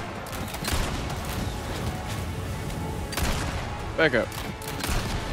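Gunfire in Resident Evil 4 Remake, scattered bursts of shots and thuds spread through the scene, with a louder cluster of reports near the middle, under a player's short spoken line.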